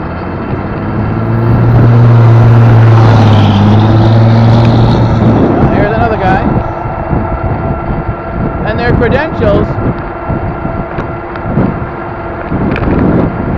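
A loud truck passing on the road, a heavy low engine roar swelling to a peak and then fading, with wind buffeting on the microphone and a voice talking over the traffic noise.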